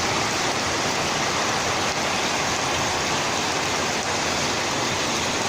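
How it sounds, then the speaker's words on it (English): Heavy rain drums steadily on a metal roof, a dense, loud, unbroken roar with no pauses or voices. "As you can see, our rainy season has arrived in full force."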